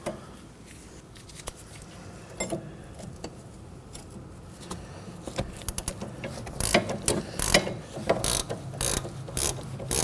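A hand wrench works a sway bar link nut loose on a Ford Transit Connect, giving scattered ratcheting clicks that turn into a rapid, louder run of ticks near the end.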